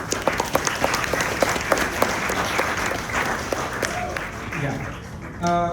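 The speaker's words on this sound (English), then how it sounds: "Can we have a round of applause?" Audience applause welcoming a lecturer at a talk, a dense steady patter of clapping that fills the room and tapers off, with a brief tone near the end.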